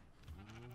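A sheep in the Minecraft video game lets out a single short, nasal bleat, quite faint and alone for less than a second.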